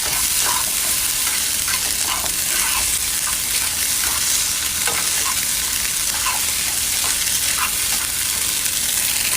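Noodles stir-fry in vegetable oil in a hot pan, a dense continuous sizzle broken by frequent scraping and stirring clicks from a utensil, close and steady throughout with no voices.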